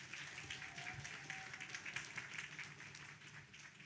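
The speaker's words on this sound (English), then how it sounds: "Clap it up one more time for Alia." Audience applause at a community outreach session, steady clapping from a crowd, fairly faint and distant, continuing for a few seconds with no talk over it.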